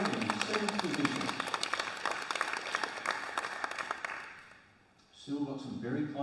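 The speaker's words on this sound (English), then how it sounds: "please give a warm round of applause for Tashita Ponaparetti from Victoria" Audience applause for a women's 10m air rifle shooter from Victoria in a competition final, sustained dense clapping that fades out near the end before a voice speaks.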